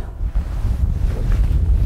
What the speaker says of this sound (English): It's coldish, isn't it? And it's windy.